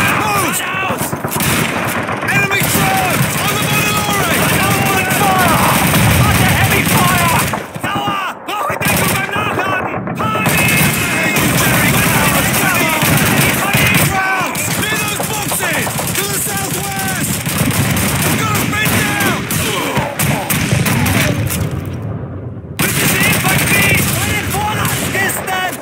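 German machine gun fire rattles in rapid continuous bursts through a Call of Duty 2 defensive battle at a crossroads, loud and close, mixed with other gunfire, explosions and shouting voices.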